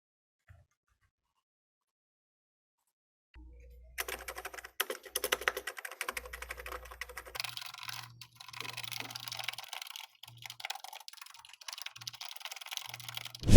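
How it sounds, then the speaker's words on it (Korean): Keys clatter on a computer keyboard in a steady run of clicks after a quiet start, with a few low thumps mixed in, recorded as sample data for training a sound-recognition model. "마지막으로 키보드 음성 데이터를 수집해 줍니다."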